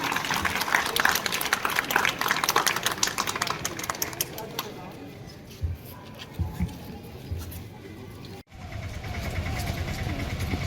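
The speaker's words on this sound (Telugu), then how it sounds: "Come on guys, claps for sir." A crowd at a community Yoga Day and Father's Day gathering in Miyapur claps for a speaker, dense applause for several seconds that thins out into murmuring and talk.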